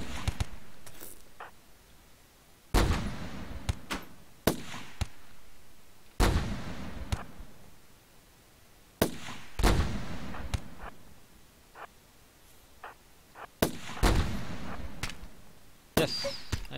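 Repeated gunshots ring out in the video game Rimworld, with about eight sharp, loud cracks at irregular intervals, each followed by a short echoing tail and fainter shots in between.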